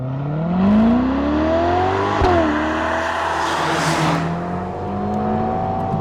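Ferrari Amalfi engine revving on the road, a loud, smooth rising tone climbing through gears with a sharp shift midway, then holding a steady cruising drone.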